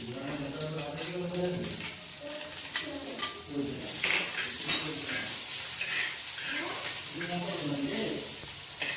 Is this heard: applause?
no